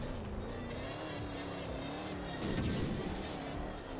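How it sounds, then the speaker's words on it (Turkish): A car engine strains as it climbs a steep bumpy slope in the Roblox game Pacifico 2, giving a continuous droning rev that rises and swells louder toward the end, near and steady, with no talking. "Araç zorlanıyor şu an."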